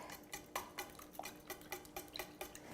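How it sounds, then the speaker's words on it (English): Light clinks and taps of a utensil stirring an egg mixture with lime, salsa verde and tortilla chips in a bowl, repeating quietly and close, with a louder knock at the very end. "Stir that up a little bit."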